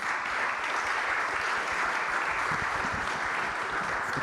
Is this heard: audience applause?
yes